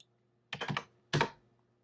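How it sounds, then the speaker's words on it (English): Computer keyboard in Maya 3D software as a value is typed in: two short, close bursts of rapid key clatter separated by a pause, with no talking. "I'm going to manually type in the value, I think."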